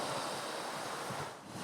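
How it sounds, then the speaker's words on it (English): Wind buffets outdoors by the sea at a bikepacking camp, a continuous broadband rush that dips slightly near the end, with no talking. "It's getting windy."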